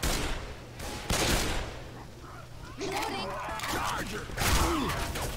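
Rifle shots crack in a zombie shooter game, several sharp reports spaced a second or two apart among clattering mechanical noise, with voices talking over the action.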